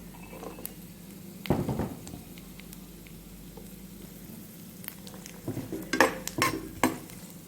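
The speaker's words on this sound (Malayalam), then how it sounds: "ഈ ബദാം തൊലി കളഞ്ഞ് സ്പ്ലിറ്റ് ചെയ്ത് വെച്ചേക്കുന്ന ബദാം ഒന്ന് റോസ്റ്റ് ചെയ്ത് എടുക്കാം" Peeled, split almonds fry in hot oil with a quiet, continuous sizzle, broken by bursts of scraping and clinking as a utensil stirs them in the pan.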